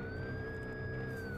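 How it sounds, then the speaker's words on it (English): A video game police car mod sounds a wailing siren, two steady electronic tones holding with a slight sweep over low engine rumble, in a brief continuous stretch. "Siren, working siren"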